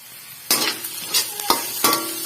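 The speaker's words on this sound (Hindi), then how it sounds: "इसको थोड़ा सा हम हिलाएंगे।" Onions and garlic fry in a pan while a utensil stirs them, giving a steady sizzle with several louder scraping strokes in uneven rhythm, close up.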